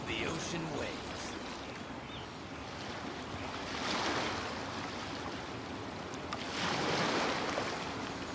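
Ocean waves in the video game Genshin Impact wash in a steady broad hiss of surf, swelling louder around the middle and again near the end, with a wind-like rush throughout.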